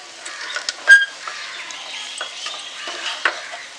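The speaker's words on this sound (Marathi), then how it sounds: "पुन्हा छान परतवून घेते" Potato bhaji with coriander and grated fresh coconut is stir-fried in a pan: a soft, low sizzle under scraping and clicking of a spatula, with one sharper knock early on.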